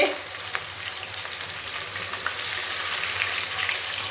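Onions frying in oil while cooking chicken biryani, giving a loud, steady, dense sizzle with faint stirring at close range and no talk.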